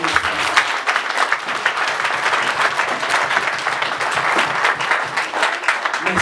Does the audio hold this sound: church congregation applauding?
yes